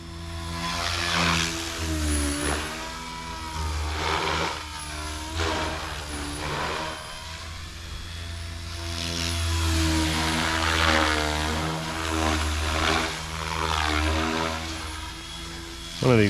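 An SAB Raw 420 RC helicopter spins its rotor at low head speed, making a steady droning whir that swells and dips, with talking over it.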